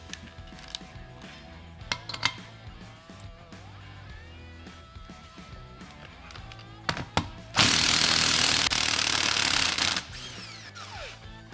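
Old press-fit rocker studs are worked out of a Vortec small block cylinder head with a ratcheting tool, giving sharp metallic clicks and clanks, then a sustained loud grinding burst for a few seconds.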